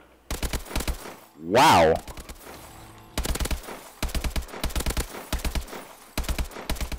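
Rapid bursts of automatic gunfire from a video game, loud and close, broken into several long strings of shots with short gaps, while a man exclaims once in the middle.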